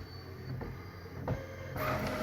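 A WiFi printer working on a page sent from a smartphone, a steady mechanical whir with a faint high whine, then a louder feeding shift near the end, close and quiet with no talk.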